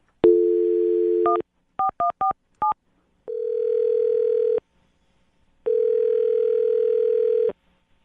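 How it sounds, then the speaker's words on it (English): Electronic telephone tones: a steady dial tone, then several short beeping keypad tones in quick succession, followed by two long ringback tones with a pause between. "I'm going to dial this phone number right now"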